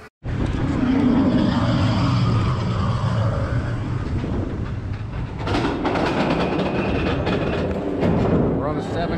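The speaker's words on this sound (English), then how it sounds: "We're on the Seven Dwarfs Mine Train." Riding the Seven Dwarfs Mine Train roller coaster at Disney World: a steady loud rumble and clatter of the coaster cars on the track, with wind rush and rising intensity partway through, under occasional voices.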